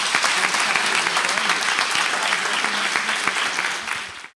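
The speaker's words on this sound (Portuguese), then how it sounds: "Aplauda Jesus bem forte." Loud, enthusiastic applause from a church congregation during a seminar, many hands clapping densely and steadily before cutting off abruptly at the end.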